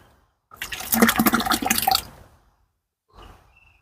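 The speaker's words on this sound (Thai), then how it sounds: "ทำง่ายสุดนี้เติมน้ำเปล่าเข้าไปนะครับ" Plain water pours into a bucket of fermented spoiled rice being made into a fertiliser brew. There is a close, splashy pour of about a second and a half, followed by a brief softer splash.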